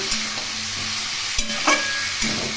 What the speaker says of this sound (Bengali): এগুলো দিয়ে ভালো করে আমি কষিয়ে নিচ্ছি।